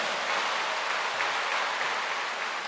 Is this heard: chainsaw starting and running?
no